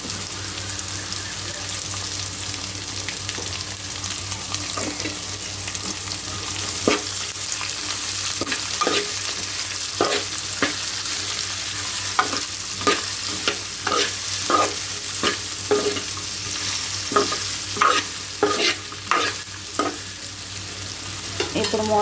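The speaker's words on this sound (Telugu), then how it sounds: "ఉల్లిపాయ ఫ్రై అయింది కదండి, ఇప్పుడు దీంట్లో బెండకాయ ముక్కలు వేసుకోవాలి." Okra pieces fry with sliced onions and salt in a pan, a steady sizzle broken by frequent sharp scrapes and taps of a spatula stirring, growing busier toward the end.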